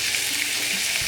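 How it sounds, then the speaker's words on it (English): Souvlaki pan frying in hot extra virgin olive oil: a steady, dense, close sizzle with no pauses and no talking. "we're about to pan fry our souvlakis"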